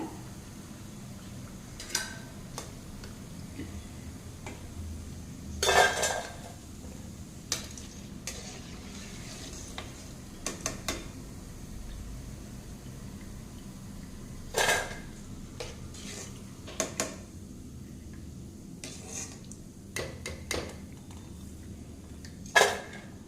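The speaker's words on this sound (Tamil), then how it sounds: "வெந்துடுச்சு பார்த்திங்களா நல்லா கலகலன்னு ஒரு சவுண்டு கேட்குது பாருங்கள்" Green pea pakoda frying in hot oil, a soft steady crackle and sizzle running underneath, punctuated by sharp clinks and scrapes of a ladle against the pan at irregular intervals, with no talking.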